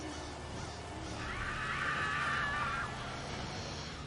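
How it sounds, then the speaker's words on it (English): A shrill, wavering scream in the racing game Monster Truck Madness 2 rises over a steady engine-like background drone, lasting about a second and a half before fading. "And those awesome scream physics, awesome screams."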